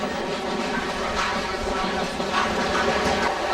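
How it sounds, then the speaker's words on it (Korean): A passenger train travelling from Taiyuan, Shanxi to Beijing gives a steady, close rumble of rail noise with faint hiss, continuous throughout with no clear voices. "산시성 타이웬에서 베이징으로 향하는 열차"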